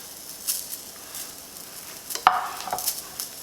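Cheese is stirred into a thick roux for Pecos Bill-style nachos, making soft scraping and sloshing with a gentle sizzle and a few sharper spoon clicks near the pan, with no voices.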